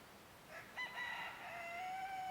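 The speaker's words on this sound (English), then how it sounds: "that rooster over there used to be a chick" A rooster crows once in the distance on a quiet rural property among oak trees, its drawn-out call rising and then holding steady, faint against a soft outdoor background.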